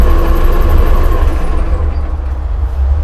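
An OX936 wheel loader's engine runs after being started with its start button, giving a loud, close, low diesel rumble that drones steadily and eases slightly toward the end.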